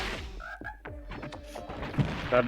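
Frog enemies in the Gato Roboto video game give a few short croaks and chirpy blips amid other game effects, with quick synthetic tones and thuds layered close together.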